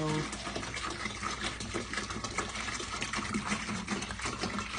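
Water is poured into a home brewing keg up to the one-gallon mark, a continuous rushing and splashing pour that runs the whole time, close and steady.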